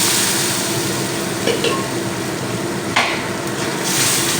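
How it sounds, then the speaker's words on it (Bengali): Bitter gourd sizzles loudly in a hot pan as boiled lentils are poured in, giving a dense, steady frying hiss with a couple of brief splashy bursts, close and alone. "এবার আমি ওই উচ্ছেগুলো আবারও দিয়ে দিলাম এইবারে আমি যে ডালগুলো সিদ্ধ করে নিলাম সে ডালটা ঢেলে দেবো"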